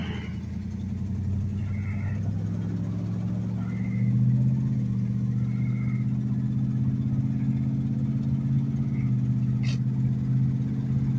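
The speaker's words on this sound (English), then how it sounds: "He's got these cherry bombs, dual exhaust, and buddy Johnny Morehouse installed and made, custom made these duals for this car." A 1969 Cadillac Fleetwood engine rumbles through custom Cherry Bomb dual exhausts, a steady deep burble that swells slightly around the middle and then holds even, close and alone, with a few faint chirps in the background.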